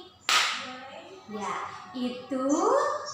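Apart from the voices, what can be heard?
hand clapping demonstrated as a sound example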